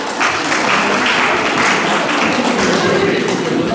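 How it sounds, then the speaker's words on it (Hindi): Loud audience applause at a university Netaji Subhash Chandra Bose Jayanti event, a dense, sustained roar of clapping from a large crowd with no break. "जोरदार तालियां।"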